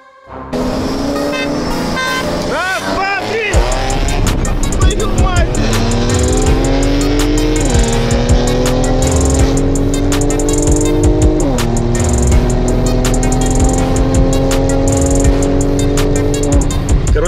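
An Infiniti Q60 Red Sport accelerates hard through its gears in a roll race from about 40 km/h, with a loud, close engine note climbing steadily in pitch across several upshifts and faint voices underneath.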